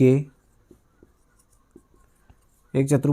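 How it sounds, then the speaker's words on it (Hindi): Pen scratching out a geometry solution to a maths problem, a few short faint strokes in a quiet pause between a teacher's speech at the start and end. "यहाँ लिखेंगे हम"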